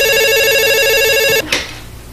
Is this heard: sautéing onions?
no